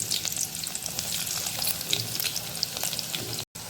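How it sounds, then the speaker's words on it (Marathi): Garlic sizzles in hot oil in a home kitchen pan, a steady close crackling hiss with small pops, cut off by a brief silence just before the end. "आपला तेल व्यवस्थित तापलेलं आहे लसूण टाकूया आपण"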